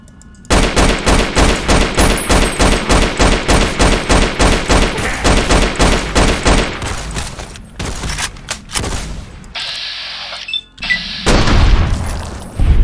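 Rapid automatic gunfire in a modded Fallout: New Vegas playthrough in Cholla Caverns, a loud steady burst of evenly spaced shots for about five seconds, then scattered heavier blasts, impacts and a few pauses, with no talking.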